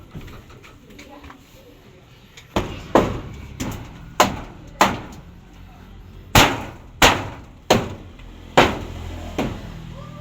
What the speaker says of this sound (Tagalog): Kanya pong pinupukpok po ng martelyo pong gano'n para po umaon yung kahoy.